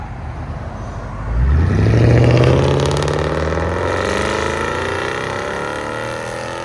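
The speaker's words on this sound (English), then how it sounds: "This is valves open, Valvetronics, Lexus" A 1996 Lexus LS400 4.0L V8 with true dual exhaust and Valvetronic valves open revs up sharply from idle into a loud, rising roar, then settles into a steady, throaty drone, close by with no talking.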